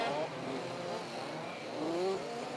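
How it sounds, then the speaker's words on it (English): Dirt kart engines at a South Australian dirt kart race track, revving in a steady, moderately distant drone with rising and falling pitch sweeps, no talk over them. "The guys are revving it."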